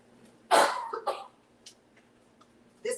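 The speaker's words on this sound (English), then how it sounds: "This cough is lingering." A few sharp coughs close to the mic, a burst then a smaller one, with a throat-clearing hack near the end in a quiet room.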